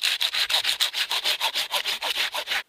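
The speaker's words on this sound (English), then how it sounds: "take your trusty saw and cut off one of the lower branches close to the trunk" A hand saw cuts through a lower pine branch close to the trunk, a loud, close rhythmic rasp of about fifteen even back-and-forth strokes.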